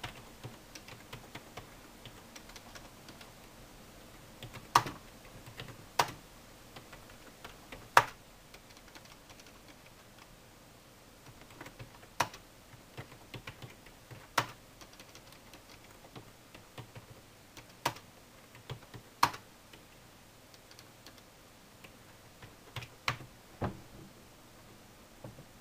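Sparse, isolated keystrokes on a computer keyboard while typing a title, faint crisp clicks spaced irregularly over a quiet room background, with no talking.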